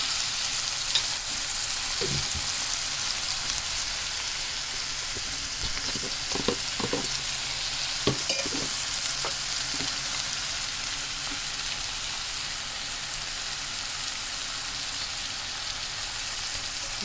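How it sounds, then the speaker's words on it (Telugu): Ginger garlic paste and turmeric fry in hot oil for a cabbage curry, giving a steady, bright sizzle throughout with a few soft clinks of stirring scattered in the first half. "పసుపు నూనెలో కొంచెం ఫ్రై అవ్వాలండి."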